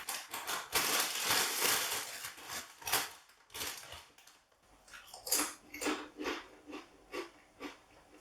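Lightly salted tortilla chips being crushed inside their bag, a run of close, loud crackling crunches in uneven bursts with brief pauses between them, no talking.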